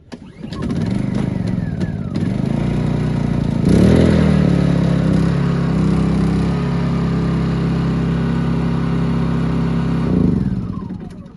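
A noisy portable generator runs aboard a Fountaine Pajot MY44 motor catamaran, a loud, steady engine drone with a low throbbing hum that swells briefly around the middle and holds on near and unbroken to the end.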